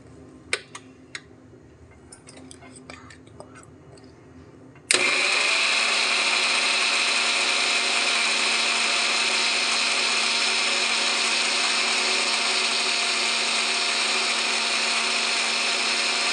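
Electric kitchen blender grinding fresh cream and masala into a paste, starting abruptly after a few quiet clicks and then whirring loudly and steadily without a break.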